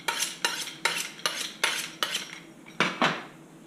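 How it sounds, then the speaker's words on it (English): A sharp knife slicing through an avocado on a cutting board, about eight crisp, evenly spaced cutting strokes with knocks against the board, close and clear with no talking. "Cut the avocado in half."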